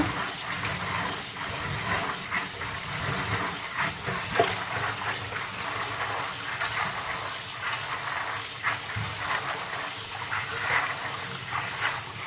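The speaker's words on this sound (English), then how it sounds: "Just going to pour it out in the strainer, because I'm not going to use that same water" Soaked peas and their water pour into a strainer in a continuous gushing splash, close and steady, with small surges along the way.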